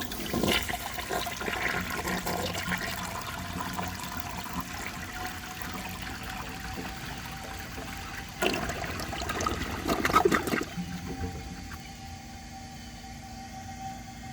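A 1984 Eljer Murray toilet flushing up close, a loud rushing gush of water through the bowl that tapers into a quieter trickling refill.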